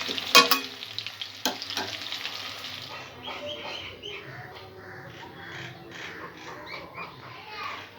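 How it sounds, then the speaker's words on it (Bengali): Cauliflower fries in hot oil with a soft sizzle and bubbling, after a couple of sharp clatters from a utensil at the start, and stays moderately quiet throughout. "ফুলকপিটা ভাজা হয়ে গেছে, এর থেকে বেশি ভাজবো না।"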